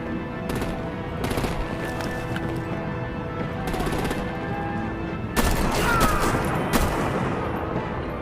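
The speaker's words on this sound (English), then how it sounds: "Bring out the artillery and disable their vehicles!" Rapid automatic gunfire and heavy shots from a Batman Telltale video game battle, coming in dense bursts over constant background noise, with a louder blast near the end.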